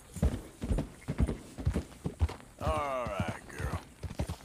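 Horse hooves clip-clop in steady rhythmic beats while riding in Red Dead Redemption II, close and clear, with a long whinny breaking in partway through.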